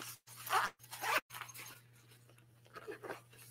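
Zipper on a cosmetic bag with a bottom compartment and an inner hanging piece, pulled open in two quick close rasps, then softer fabric handling and faint rustles.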